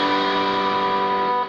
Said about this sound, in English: I want to have that really distorted sound for the song.